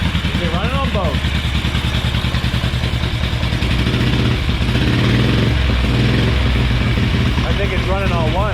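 A Moto Guzzi motorcycle engine runs steadily close by on a little choke, a loud, even, throbbing idle that continues throughout while people talk over it.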